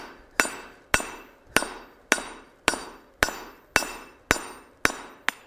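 Sharp metallic hammer blows on a cheap anvil during a forging test, about ten evenly spaced strikes, each ringing briefly before the next.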